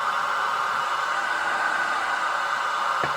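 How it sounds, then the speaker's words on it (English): Static hiss from a car stereo played through a loose test speaker, a steady, loud, even noise with no break, a faint thump near the end. "I literally just want to hear some static."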